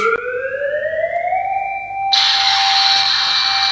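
An electronic siren wails with a rising tone, then switches abruptly to a harsher, buzzing alarm pattern, loud and close, like a small battery-powered toy.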